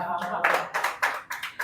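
An open mic comedy audience claps in short bursts, several quick rounds of hand claps close by with brief gaps between them.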